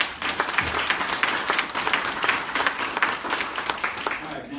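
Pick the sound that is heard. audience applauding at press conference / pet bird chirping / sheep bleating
audience applauding at press conference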